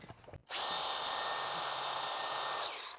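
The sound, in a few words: angle grinder with 120 grit flap disc sanding garage epoxy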